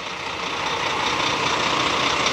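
A heavy diesel bus engine resembling a Scania idles steadily nearby, a continuous rumbling drone with no breaks.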